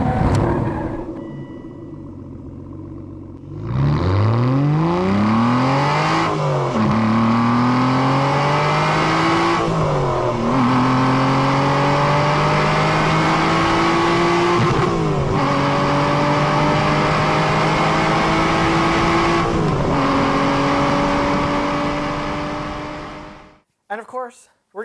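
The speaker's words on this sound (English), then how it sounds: "6-speed manual, a 2-liter, 200 brake horsepower, 150 pound-foot of torque." A Subaru BRZ with a 2-liter engine and six-speed manual gearbox revs hard while driving, its pitch climbing through repeated gear changes, loud and close, with a voice speaking over it.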